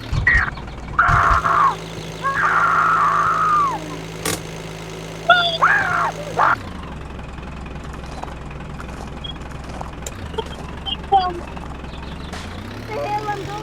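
An RV's engine in the RV Cooked video game drones low and steady as it drives uphill, its pitch shifting midway. Voices talk over it at times.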